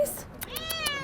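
A cat meows in a drawn-out, wavering cry close by, with a person speaking faintly behind it throughout.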